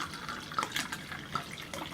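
Hardanger cider from Norway poured into a glass, a steady soft liquid splash with faint gurgles throughout.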